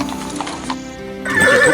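A horse neighs loudly, a sharp rising whinny mixed with a few quick clip-clopping hoofbeats, close up, as a brief sound effect in a fairy-tale retelling of Black Beauty.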